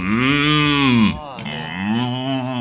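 A cow moos loudly in two long, drawn-out calls separated by a short pause, close and alone with no talk.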